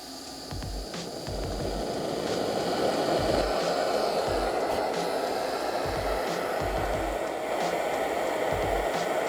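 A gas torch flame for annealing brass rifle cases hisses steadily and close at moderate loudness, a broad rushing burn that holds for the whole stretch, with faint low knocks beneath it and no talking.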